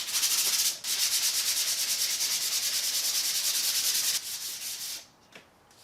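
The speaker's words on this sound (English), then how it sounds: "one round of hand sanding on a finer grit" Rapid back-and-forth strokes of fine-grit sandpaper rubbing by hand on a wooden bat prop, a steady rhythmic scratchy hiss that pauses briefly, then fades to lighter strokes before stopping.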